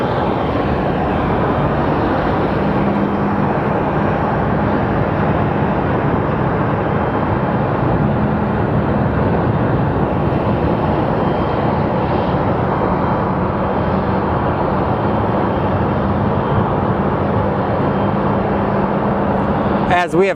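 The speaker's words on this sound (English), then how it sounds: "We're gonna get Alaska 744 coming into Phoenix from Seattle. It's a 737 MAX 9." Alaska Airlines Boeing 737 MAX 9 arriving at Phoenix Sky Harbor Airport from Seattle, a loud, continuous jet engine roar holding steady throughout, with a low droning hum underneath.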